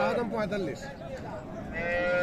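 A Sahiwal cow at Raniganj livestock market in Dinajpur gives a long, loud moo, then a second moo that swells toward the end, heard close with faint market noise behind.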